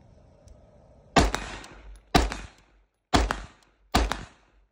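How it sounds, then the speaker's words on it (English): Suppressed AR-15-style direct-impingement gas rifle fired four times at an even pace, each round a sharp, close, muffled crack with a short decaying tail, separated by silence. "So let me fire a couple rounds to this"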